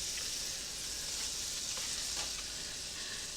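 A tablespoon of butter sizzles steadily in a pan, a continuous close, even hiss with a few faint crackles and no pauses, heard alone without speech.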